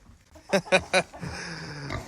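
Three short, loud grunting snorts from a pig at a feeding call in quick succession, followed by a low rumbling murmur and scattered animal noise in the background.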